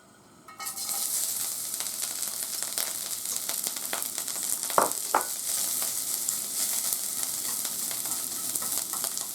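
Carrot being stir-fried for hijiki natto, a steady bright sizzle in a hot pan with a few sharp scraping clicks from stirring midway, close and continuous with no talk.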